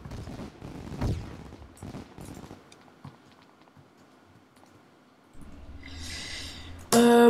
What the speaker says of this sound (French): Il y a plein de feux d'artifice qui sortent de cette personne.